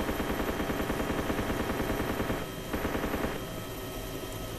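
Rapid automatic gunfire in a helicopter-down combat game, sustained bursts over a steady rotor-like drone, loud and continuous, with a brief drop in the firing partway through.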